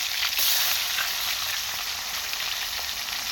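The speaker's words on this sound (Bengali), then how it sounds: "বড় মাছগুলো আগে ভেজে নিচ্ছে," Large spice-coated fish sizzle in hot oil in a wok, a loud, steady crackling hiss that runs unbroken throughout with no voices.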